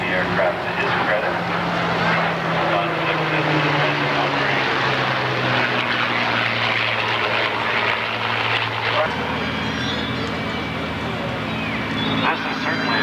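Avro Lancaster bomber's propeller engines droning loudly and continuously at Mount Hope, Hamilton, with steady low engine tones that shift in pitch partway through, while someone talks over the roar.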